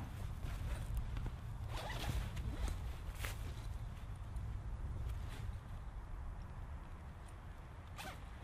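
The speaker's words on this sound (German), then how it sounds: "dann Reißverschluss aufmachen und rein damit" Zipper on a canvas lavvu tent pulled open in a few short scratchy runs, close and fairly quiet over a soft outdoor rumble, with light rustling of fabric.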